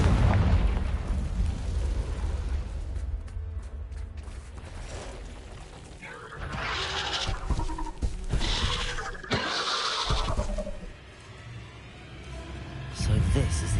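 Confringo fire spell blasts in Hogwarts Legacy, inside a spider-infested Acromantula cave, go off as several sharp, loud bursts with crackling tails, set against busy game effects and a voice.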